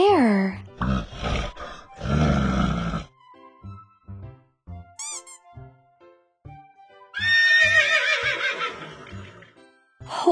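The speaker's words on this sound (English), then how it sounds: "Horse." A horse neighs loudly and close, with shrill whinnies at the start and end and low grunts and snorts between them, separated by short quiet gaps.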